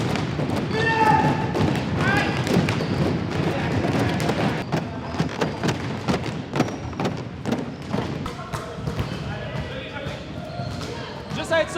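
Women's division 1 volleyball team doing alternating drop jumps off steps in a gym, with repeated dull thuds of landings and sneaker squeaks, echoing in the hall under a coach's speech and players' voices.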